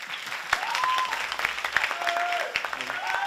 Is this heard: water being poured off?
no